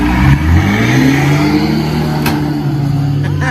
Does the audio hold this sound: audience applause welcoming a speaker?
no